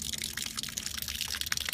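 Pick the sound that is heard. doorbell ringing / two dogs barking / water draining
water draining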